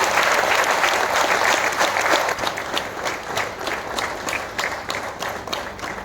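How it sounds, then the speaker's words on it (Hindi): Audience applause at a birth anniversary ceremony in Nanded, India: a loud, dense burst of clapping that thins into more distinct rhythmic claps as it continues, with faint crowd murmur underneath. "इन सभी लोगों को हम जोरदार तालियां बजाकर धन्यवाद करेंगे।"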